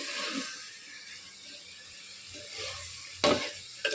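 Chicken is stirred with a spoon in a clay pot, a quiet sizzle with soft scraping that ends in one sharper scrape near the end.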